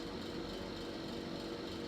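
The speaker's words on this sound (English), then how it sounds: "The noise you hear is my little heater" Small electric heater running steadily in a workshop, a constant broadband whir and hum with no change in pitch or level across the short stretch, no voices.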